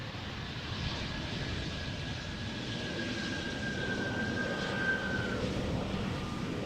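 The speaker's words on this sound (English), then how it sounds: "Teensy bit of squeakiness in the brakes." Airliner landing at Amsterdam Schiphol Airport, a distant steady jet engine roar with a thin high squeal from the brakes rising midway and fading, no talk.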